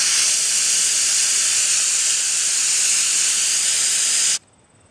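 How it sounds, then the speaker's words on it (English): A steady, loud hiss of aerosol cleaner sprayed onto the mass air flow sensor of a 2008 Saab 9-3 2.0t, lasting about four seconds, cutting off abruptly into quiet. "I'm going to spray again."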